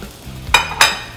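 Eggs dropped into a frying pan of leftover fat and oil while cooking a burger give two short, sharp sizzling bursts close by, with quiet pan noise between them and no talking.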